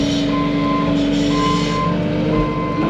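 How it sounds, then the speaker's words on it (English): A heavy vehicle backing up during driveway work gives off an evenly spaced series of loud reversing beeps, about one per second, over a steady engine rumble nearby. "I'm going to go forward so we don't have to hear the backup beeper."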